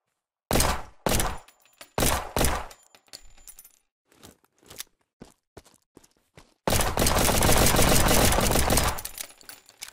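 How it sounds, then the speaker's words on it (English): Pistol shots in Unturned 2 ring out as loud, sharp reports, mostly in quick pairs. Small metallic clinks and taps follow, then a long, steady, noisy stretch near the end. "The first gun is the pistol."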